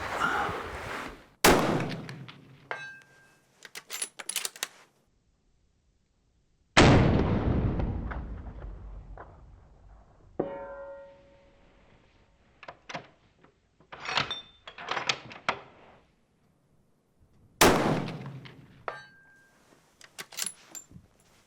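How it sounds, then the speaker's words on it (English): Rifle shots with Hornady Outfitter ammunition at steel targets 300 yards away in snowy country: three loud cracks spaced several seconds apart, each followed by a faint distant metallic ring of the hit, with clicks of the rifle's action between shots. "3 shots, 3 hits at 300 yards."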